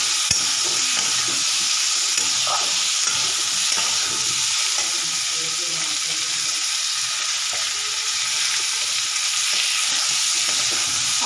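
Vegetables for a curry eaten with roti fry in a pan after turmeric and salt go in, giving a constant bright sizzle with soft stirring scrapes underneath, close and steady, without any talking.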